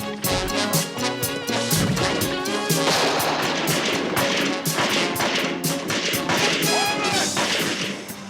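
Gunfire in a TV action show: a dense, loud volley of shots and cracks that continues for several seconds over a busy dramatic music score.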